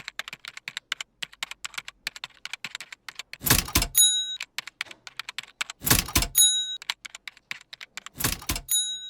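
Typewriter typing with irregular rapid key strikes, several louder clusters of clacks and rings at intervals, close and fairly crisp with no voices.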